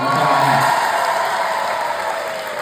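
Concert audience applauding and cheering at a show in Toronto, a dense, steady wash of clapping from a large crowd that fades slightly, with a faint sustained tone running underneath.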